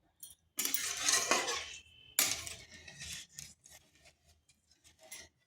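Semolina being stirred in milk in a cooking pan over medium heat, a close scraping and rubbing of a spoon against the pan in irregular strokes with short pauses.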